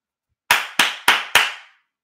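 Four sharp, evenly spaced hand claps, loud and close, mimicking an American football coach's signature sideline clap, with silence before and after.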